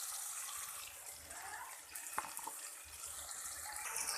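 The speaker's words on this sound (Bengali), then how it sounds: "হালকা একটু জল দিয়ে দেবো।" Water pours into a cooking pot of chana dal for a vegetarian dal bora dish, a soft steady running-water wash that carries on throughout with a few small clinks.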